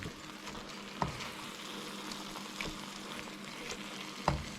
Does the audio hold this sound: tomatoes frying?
yes